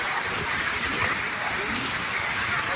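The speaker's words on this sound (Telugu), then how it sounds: "అలలు చూడండి చాలా పెద్దగా ఎగిసిపోతుంది" Large sea waves surge in strong wind and rain, making a dense, continuous roar of rushing water and gusts, loud and broadband throughout.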